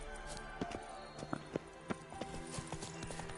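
Horse hooves in The Witcher 3 video game, a series of irregular clip-clop hoofbeats over a steady background hum, moderately near, with no talk.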